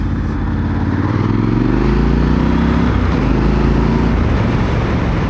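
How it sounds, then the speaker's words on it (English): A Triumph Scrambler 1200 XC twin rumbles steadily under load, its exhaust a low, close, continuous throb with a slight rising pitch and wind noise, no voices. "it's not explosive, but it's a nicer low rumble."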